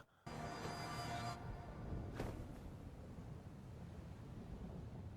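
Anime storm in an Attack on Titan Season 4 episode: a loud, sustained roar of wind and rumbling that starts abruptly, with a brief sharp crack partway through, continuous and without speech.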